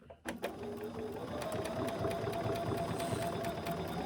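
A sewing machine top stitches along the edge of a fabric mask, starting with a sharp clack and then running in a steady, close mechanical whir.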